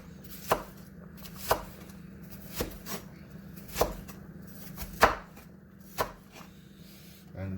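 Carrot being chopped with a knife on a cutting board for Jamaican stew peas, about eight sharp, unevenly spaced knife strikes over a steady low hum, close and fairly quiet, with no talk.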